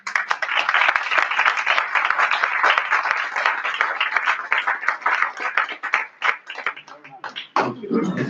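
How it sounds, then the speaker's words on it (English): Audience applause for panelists at a discussion on Brexit fallout, brisk sustained clapping that thins into scattered claps before a voice comes in at the very end. "I think we need to give them another round of applause"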